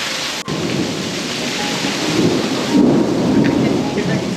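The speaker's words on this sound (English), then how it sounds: "We got lightning and thunderstorm." Thunderstorm rolling over a backyard at night, steady heavy rain hissing on surfaces with deep rumbling thunder swelling underneath and a louder roll building toward the end, no voices.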